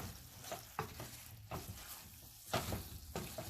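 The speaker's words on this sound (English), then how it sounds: "give it a nice stir" Curd being stirred into a cooking vegetable biryani mixture in a pot, soft scraping strokes every second or so over a quiet sizzle, faint and close.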